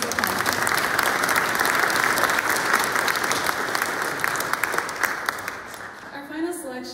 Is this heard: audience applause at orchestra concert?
yes